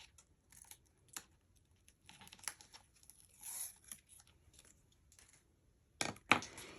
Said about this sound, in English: On the short end, we're going to remove our tape backing.